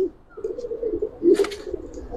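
Giribaz and khaki pigeons in a loft give a low, continuous throaty cooing, close and soft, with a brief brighter flutter-like burst partway through and no talk.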